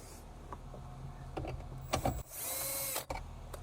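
A handheld power tool whirs steadily for under a second while removing a part during a 2020 Toyota Corolla amplifier installation, set between a few clicks and rustling.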